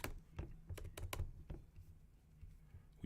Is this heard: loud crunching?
no